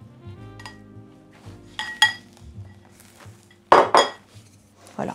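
Grated zucchini is stirred into chocolate cake batter in a bowl, giving irregular clinks and scrapes of a utensil against the bowl, with a few sharper knocks standing out close and clear.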